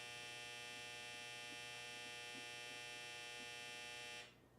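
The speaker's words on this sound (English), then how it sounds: "That dryer is a really long dryer buzzer." An old clothes dryer's buzzer sounds as one long, steady, harsh electric drone that holds for about four seconds and then cuts off abruptly.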